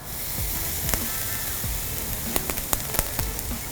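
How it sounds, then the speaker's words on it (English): Steady crackling sizzle of meat skewers on a hot charcoal grill, close up, with scattered sharp pops and snaps over a constant hiss. "Can you hear the sizzle?"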